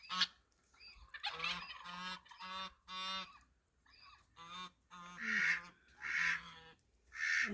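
Newly adopted geese honk back and forth on a grassy yard, a run of separate loud calls in uneven rhythm, fairly close, with no talk.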